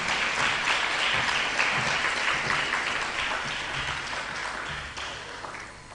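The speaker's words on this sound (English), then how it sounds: "That is certainly worthy of your applause." An audience claps at a school speech day and prize-giving ceremony, a dense, even applause from a crowd that holds steady and then slowly tapers off toward the end.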